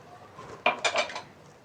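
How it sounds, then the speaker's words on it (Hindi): Water poured from a glass into a pot of biryani masala, heard as a short bright splash and metallic clinking that lasts under a second, fairly close. "अब हम इसमें डालेंगे ये 1 ग्लास वाटर"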